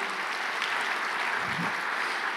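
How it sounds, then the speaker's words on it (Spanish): Applause from a church congregation during a Sunday service comes as a soft, continuous wash of clapping, fairly faint and even throughout. "Dele fuerte ese aplauso al Señor"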